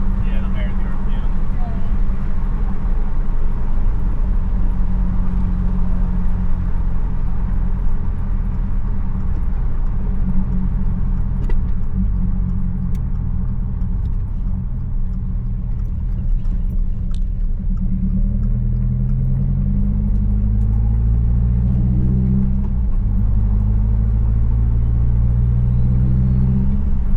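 A 2022 Subaru WRX engine idling steadily after a flex fuel tune, a constant low rumble that climbs in pitch near the end as the revs rise, with people talking over it.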